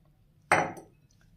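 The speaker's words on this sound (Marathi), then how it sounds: "इडली पात्र ठेवलंय मी गॅसवर" A metal idli steamer vessel set down on a gas stove at home while making tamarind chutney gives a single close clank with a brief ringing decay and a faint clink after it.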